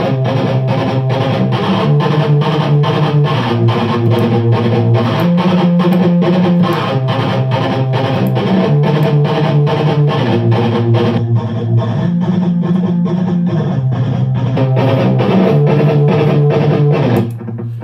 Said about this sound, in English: So when we switch to distortion